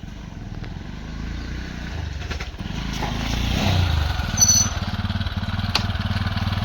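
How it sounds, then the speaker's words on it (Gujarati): A motorcycle engine rumbles close by as it arrives, its low putter rising slightly as it revs, then settling back into a steady idle. "તો આ શુક્લોલા બાઈક લઈને આવી ગયો"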